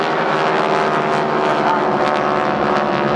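Several World War II propeller aircraft of the GEICO Skytypers fly in formation at an airshow, giving a loud, steady, continuous engine drone with a broad roar that holds throughout without pause.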